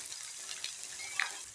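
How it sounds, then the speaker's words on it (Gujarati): Mustard seeds, cumin and white sesame seeds sizzle in hot oil for a tempering, a soft, close crackle with a few sharper pops and spits near the end. "તેલ આવી ગયું છે એટલે એમાં આપણે નાખી દઈશું 1 ચમચી રાઈ, 1 ચમચી જીરું, 1 ચમચી સફેદ તલ"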